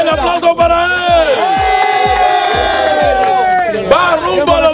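A crowd cheers and shouts for a contestant at a pastry-eating contest in San Pedro, with loud rhythmic clapping in regular beats and chanting voices that carry across the whole stretch.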